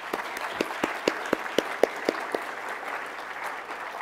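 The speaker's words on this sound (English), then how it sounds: "So one round of applause for all those wonderful people." A short round of applause from a community-forum audience in San Antonio, a few distinct sharp claps ringing out over a thin, scattered patter that fades away after about two seconds, with no talking.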